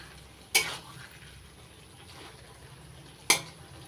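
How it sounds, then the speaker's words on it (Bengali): Malabar spinach vegetable curry with potatoes being stirred in a pan after cooking on medium flame, two sharp utensil clatters against the pan over a soft, low bubbling simmer, close by. "একটু নাড়াচাড়া করে নিচ্ছি।"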